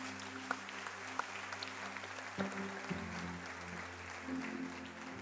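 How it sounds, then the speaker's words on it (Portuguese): Church congregation applauding during a sermon, a moderate, fairly faint wash of clapping with a few sharper claps over a steady low hum. "Aplauda ao Senhor em nome de Jesus"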